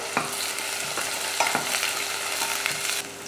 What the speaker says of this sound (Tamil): ஒரு பெரிய வெங்காயமும் 2 பச்சை மிளகாயும் சேர்த்துட்டு கொஞ்சம் கருவேப்பிலையும் சேர்த்து வதக்கிக்கலாம்